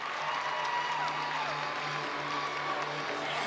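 Young gymnasts and spectators cheer and clap at a college gymnastics meet, a faint, distant wash of crowd applause and cheering filling the arena throughout.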